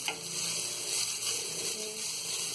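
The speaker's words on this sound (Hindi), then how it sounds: "पत्ता गोभी को भी हम अच्छी तरह चला के" Shredded cabbage stir-fried in a pan for vegetable noodles, a dense steady sizzle and hiss with a faint continuous stirring rustle, close and even throughout, no voices.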